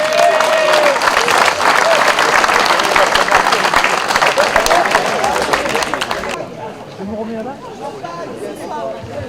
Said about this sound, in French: encore tous vos applaudissements